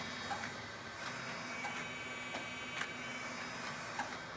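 A wide format printer runs an IT874 calibration chart of over 1,600 patches, giving a steady mechanical hum with faint, regular ticks and clicks that recur about every second.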